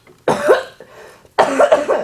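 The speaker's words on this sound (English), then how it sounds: "please pardon my cough" Two harsh, close coughing bursts separated by a short pause, each a raspy chesty cough with some throaty rattle.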